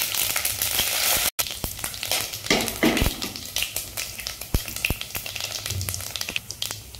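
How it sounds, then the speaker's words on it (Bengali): Whole spices hit hot oil for a Punjabi spicy khichuri, crackling and sizzling loudly and steadily up close, with a brief dropout early on and scattered sharp pops throughout. "তো এই অবস্থায় আমি এগুলো মশলা দিয়ে দেবো, এগুলো খড়া মশলা নিয়েছি, সেগুলো দিয়ে দেবো"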